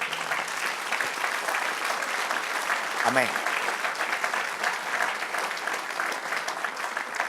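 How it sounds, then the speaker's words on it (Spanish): Church congregation applause during a sermon, a sustained wash of clapping from a large crowd with a voice briefly calling out over it midway. "Dar un aplauso al Señor."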